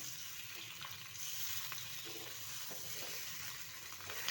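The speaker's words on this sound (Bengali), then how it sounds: "ডিম ভাজার সময় গ্যাসের ফ্লেমটাকে কিন্তু লো রাখতে হয়," Duck eggs fry in a pan over a low gas flame with a soft, steady sizzle and faint crackles, heard close and alone.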